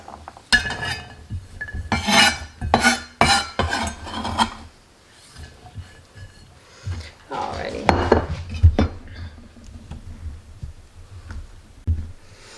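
Chopped shallot is scraped and tipped into a bowl, with close clattering of a utensil against dishes in bursts, a quiet pause, then more rubbing and knocking.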